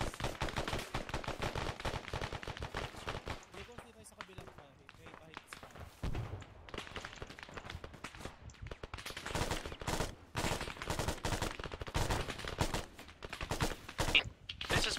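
Rapid automatic gunfire in Arma 3 rattles in dense bursts as suppressing fire during a squad push toward a town, with a short lull before the shooting resumes. Voices talk over the shots.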